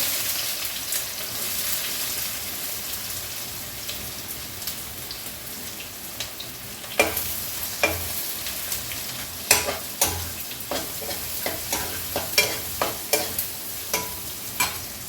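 Onions sizzle steadily in hot oil along with fenugreek seeds, and from midway a spoon scrapes the pan in a run of sharp, regular strokes over the constant frying hiss.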